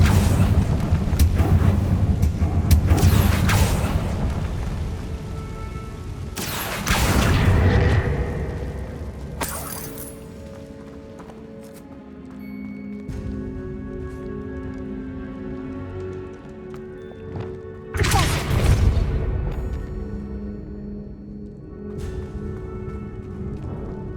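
Confringo fire spells blast repeatedly in Hogwarts Legacy, giving loud booming bursts at irregular intervals, with a rumbling game ambience and music between them and no talk.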